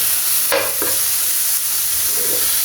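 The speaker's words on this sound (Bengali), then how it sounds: "সবগুলো উপকরণ একসাথে ভাজা হয়ে গেছে।" Fried onion (beresta), chili powder and ginger-garlic paste fry together in a pan for a homemade chicken chop filling, giving a steady sizzling hiss broken by a few scraping stirs of a spoon, with no talking.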